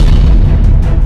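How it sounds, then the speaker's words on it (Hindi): An explosion at a large oil refinery in Texas: a loud, heavy low rumbling boom that fills the whole moment with deep sustained roar. "जब यहाँ पर धमाका हुआ तो कई किलोमीटर दूर तक आवाज सुनाई दी"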